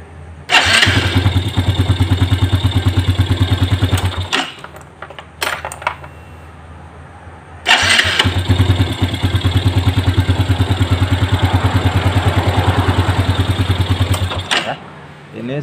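Yamaha Jupiter Z1 motorcycle cranked on its electric starter and run during a test, two loud steady engine bursts of several seconds each separated by a short quiet pause with a few clicks.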